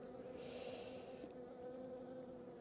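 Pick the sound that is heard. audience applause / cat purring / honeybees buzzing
honeybees buzzing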